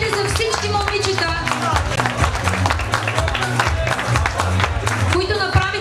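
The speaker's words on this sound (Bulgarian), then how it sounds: "Аплодисменти за всички момичета," Sustained clapping from a pageant audience rolls on loudly throughout, mixed with cheers and background music while a host speaks over the applause.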